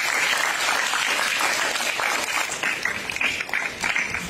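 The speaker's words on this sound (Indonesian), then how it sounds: "Beri tepukan." An audience at a school Quran completion ceremony at SK Abang Haji Matahir in Sarikei gives a sustained round of applause, a thick wash of many hands clapping at even loudness throughout.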